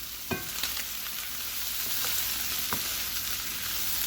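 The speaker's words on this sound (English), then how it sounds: "You want to just stir the Smokies until kind of browning" Smokies sausages sizzle steadily in a hot frying pan, a constant close hiss broken by a few scraping knocks as they are stirred, with no talking.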